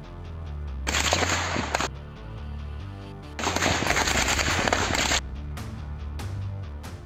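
Army rifle and machine-gun fire during a militant encounter in Jammu and Kashmir, loud rapid bursts in two long volleys around a short lull, followed by a few scattered fainter shots.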